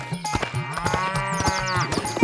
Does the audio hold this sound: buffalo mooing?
yes